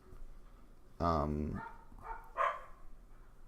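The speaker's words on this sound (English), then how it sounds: "we can all hear these dogs, right?" Dogs barking somewhere near a person talking: a couple of sharp barks and yips stand out over a quiet background, the first loud and the later ones fainter.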